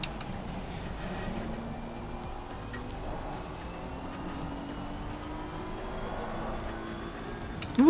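A BMW in a sim racing video game drones steadily with a faint engine note and light tire noise, quiet and continuous, ending in a short sharp burst.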